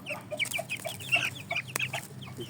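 Shamo and Indio Gigante chickens cluck in a quick series of short, bright calls, fairly close and jumbled together over a low background hum.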